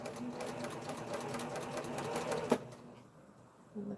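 A sewing machine stitches the curved seam of a face mask, a close, fast, steady mechanical whir with a sharp clack near the end as it stops, followed by a brief quiet.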